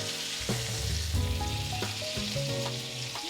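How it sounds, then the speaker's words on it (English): A thick steak sears and sizzles loudly in a hot pan, a steady close crackle with occasional bursts as the meat shifts, no voices. "because the meat is so thick, you want to make sure that we cook all sides of it."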